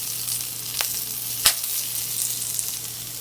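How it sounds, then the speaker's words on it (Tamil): Ginger and curry leaves fry in hot oil for a chutney, a close, continuous crackling sizzle with a couple of sharp pops and spatters partway through. "இஞ்சி இதை கொஞ்சம் நல்லா வறுத்துட்டு அதுக்கப்புறமா வெங்காயம் போட்டுக்கலாம்."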